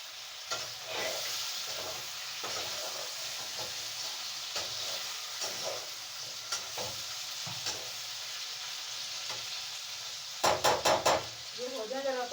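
Onion, green chili, garlic and ginger paste fry in ghee, a continuous sizzle broken by regular scraping stirs, close up, with a burst of sharper clattering knocks near the end.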